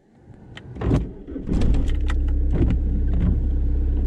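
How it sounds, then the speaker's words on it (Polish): A VW Polo with a 1.9 diesel engine cranks after some cabin clicks and rustling, then fires into a loud, steady diesel idle heard from inside the car in rainy weather. "Odpalam silnik."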